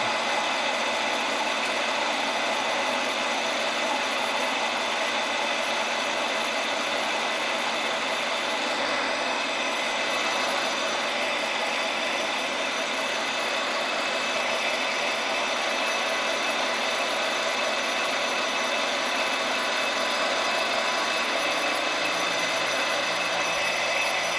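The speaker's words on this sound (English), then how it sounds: "Plenty of chatter on that little shaft sticking out." A small protruding shaft chatters on a lathe as a steady, dense grinding whine that runs on without a break, loud and close, with no voices.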